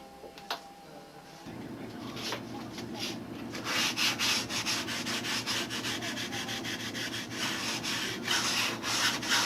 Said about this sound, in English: Roughing this out with a 120 block again.